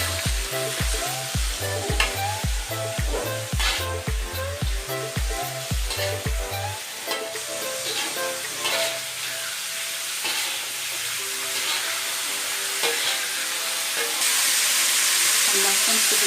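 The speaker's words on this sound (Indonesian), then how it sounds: "Dan kita oseng-oseng sampai" Mie Gomak Medan noodles and vegetables being stir-fried in a pan, with a steady close sizzle and scraping stirring, preceded by rhythmic low thumping at the start.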